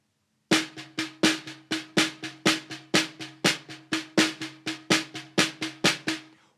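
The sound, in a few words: snare drum playing groups of three and two, Legend of the Alhambra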